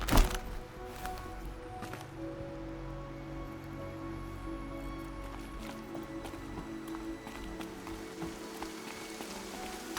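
Steady rain falls in the video game Horizon Zero Dawn, a continuous patter on surfaces that starts after a brief thump and holds an even level throughout, with no speech.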